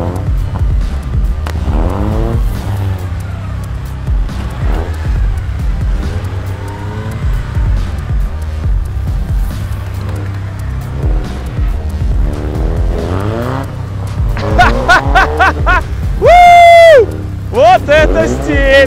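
A Derways Cowboy SUV drives off-road with a loud, fluctuating engine roar and revving that sweeps up and down, tires scrabbling over rough ground, and excited voices talking and shouting over it toward the end.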